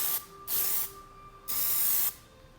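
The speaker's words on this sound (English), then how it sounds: "you will spray more and more texture on it" Two long bursts of Plasti Dip aerosol spray hissing onto the emblems of a 2015 Toyota Camry XSE, each about half a second, separated by short pauses, close and steady.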